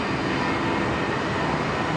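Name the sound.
Jetstar 906 airliner departing for Townsville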